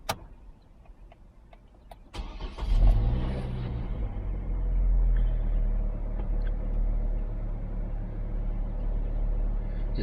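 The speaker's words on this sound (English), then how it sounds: "If I restart the engine now," A Chevy Colorado/GMC Canyon pickup engine cranks after a few faint clicks, catches with a brief surge, then settles into a steady, low idle rumble heard from close by, with no talking.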